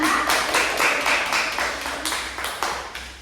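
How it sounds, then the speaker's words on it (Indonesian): A small group claps in a steady, rapid rhythm for a few seconds, fairly close, gradually fading a little toward the end. "Beri tepuk tangan ya"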